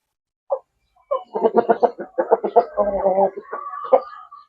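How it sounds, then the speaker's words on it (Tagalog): A Dumpo Giant rooster clucks in a quick, close burst of stuttering calls that runs into a short, ragged crow. "Yung ating rooster ay Dumpo Giant."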